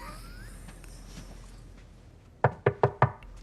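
Four sharp knocks, as on a door, land in a quick, evenly spaced run near the end, close and clear after a stretch of quiet room hum.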